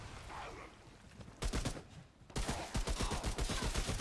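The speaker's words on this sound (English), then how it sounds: "That's what the assault rifle is for." Assault rifle fire in the video game Remnant: From the Ashes rattles in fast bursts, a short volley followed by a longer automatic string, moderately loud over faint background ambience.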